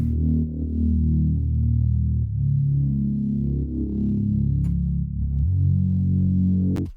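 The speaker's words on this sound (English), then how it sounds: "this is the Reese I have" A thick, droning Reese synth bass with a slowly shifting, detuned growl, sustained and loud, changing pitch a few times with no other sounds.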